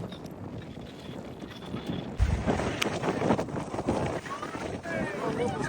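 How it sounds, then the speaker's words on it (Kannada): Strong wind roars steadily across the open mountain top at Mullayanagiri peak, buffeting the microphone with gusts, while people talk close by. "ಗಾಳಿ ನೋಡಿ, ಗಾಳಿ ಎಷ್ಟು ಜೋರ ಬಂದೈತೆ ಈ ಕಡೆ"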